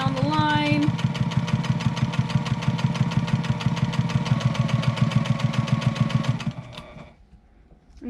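A sewing machine stitches bias tape ties onto a fabric face mask, its needle hammering in a fast, steady rhythm close by before slowing and stopping near the end.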